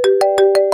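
A phone ringtone plays a short electronic melody of about five bright, evenly spaced tone pulses, loud and close with nothing else around it.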